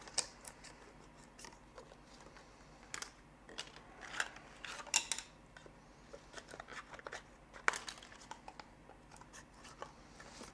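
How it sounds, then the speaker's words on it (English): Scissors snip through a plastic retainer sheet in a quiet workspace, giving a string of short, crisp irregular cuts and crackles at close range, with no talking. "I just like to use some scissors and cut this."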